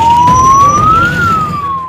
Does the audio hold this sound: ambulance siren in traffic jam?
yes